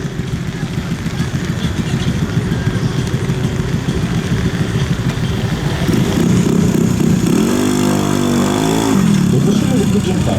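A Lifan KPV150 motorcycle accelerates at a race start with a loud, close engine drone that climbs in pitch through the gears, while a commentator speaks throughout.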